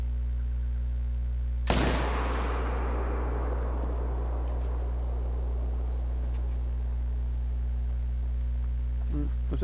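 A single hunting rifle shot rings out in theHunter: Call of the Wild while stalking axis deer, a sharp loud crack followed by a long fading echo over a constant low hum.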